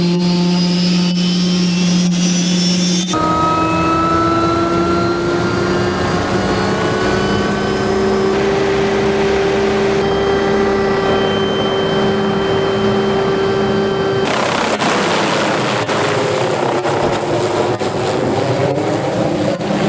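An old helicopter drones steadily nearby in the New Zealand hills, its rotor and turbine whine shifting in pitch as it approaches, loud and continuous throughout.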